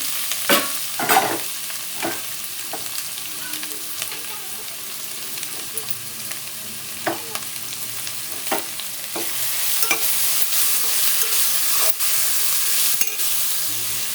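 Chopped onions sizzle and fry steadily in a pan for pulicha keerai chicken varuval, with a few sharp stirring scrapes and clinks scattered throughout; no talking.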